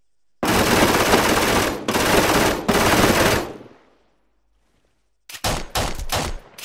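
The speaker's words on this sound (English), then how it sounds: "I'm just gonna shoot him now." Rapid automatic gunfire from the online tank game Tank Trouble, loud dense bursts in three long volleys, a quiet gap, then several shorter clipped bursts near the end, with no talk.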